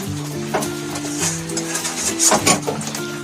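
Water poured into a pan of well-cooked chicken curry gives a bubbling sizzle with stirring scrapes and clinks, over a steady background hum, building to a louder burst of hissing near the end.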